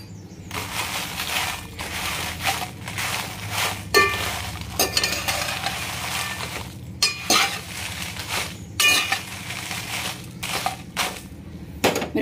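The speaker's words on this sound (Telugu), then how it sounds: "మిరపకాయల్ని సిమ్లో పెట్టి వేయించుతున్నానండి" Dried red chillies dry-roasting in a pan on low heat with no oil, being stirred throughout: a steady dry rustle and rattle broken by sharp spatula scrapes and clinks against the pan, close and continuous.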